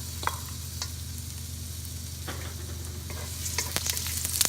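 Onions sauté in hot oil with a loud, steady sizzle and frequent clinks and scrapes of a utensil stirring, growing busier toward the end.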